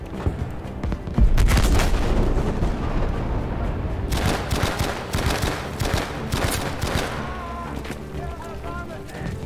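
Rapid bursts of Battlefield V gunfire, loud and sustained, with repeated sharp shots and echoing booms throughout.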